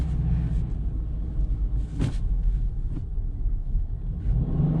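A manual car's engine rumbles low and steady while a learner driver shifts into second gear. The drone is loud and continuous, with a brief mechanical clunk midway and no speech.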